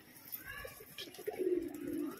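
Giribaz pigeons coo close by in soft, throaty, rolling calls that rise into a sustained, warbling coo in the second half, with no talking over them.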